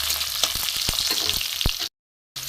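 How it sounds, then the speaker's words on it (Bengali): Black cumin seeds fry in hot oil in a pan, giving a loud, continuous sizzle with a few sharp stirring knocks, then a brief break of silence before the sizzle resumes; no talking. "এগুলো একটু ভেজে নেবো সব।"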